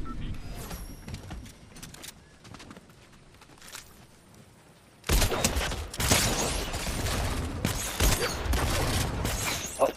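Rapid gunfire in a video game, starting about halfway through and then carrying on loud and dense, with clattering bursts packed close together; softer game noise comes before it, and players talk over it.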